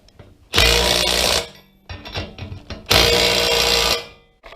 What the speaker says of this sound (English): this is an 11/16 socket that fits these nuts on here. Just go ahead and run them down.